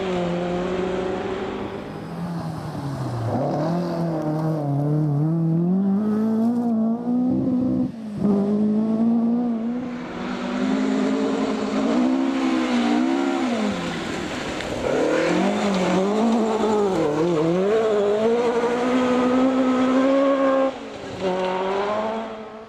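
Historic rally cars race flat out, among them a Pinto-engined car, with loud engines revving and rising and falling in pitch through repeated gear changes, close and continuous, with brief cuts between runs.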